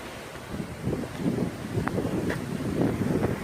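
Strong hurricane gusts buffeting the microphone during Hurricane Matthew, a steady roaring rumble with flapping and rattling debris racket, loud and continuous with no voices.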